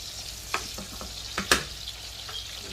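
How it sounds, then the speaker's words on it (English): Mushrooms and freshly added green chillies frying in a pan for spaghetti aglio olio, a faint continuous sizzle broken by a few sharp spoon scrapes during a light stir. "Give that a little stir."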